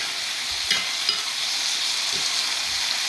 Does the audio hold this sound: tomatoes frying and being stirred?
yes